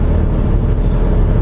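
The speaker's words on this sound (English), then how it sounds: "Still super windy out. You can probably hear the wind." Strong wind buffets outdoors at a winter car show, a loud continuous low rumble and roar with no other sounds.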